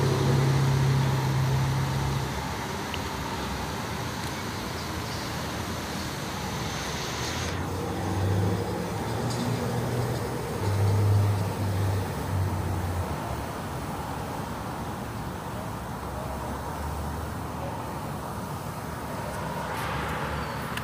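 A 2014 Buick Regal GS with a 2.0 turbo engine idles warm, a low steady hum with faint whines and no talk over it.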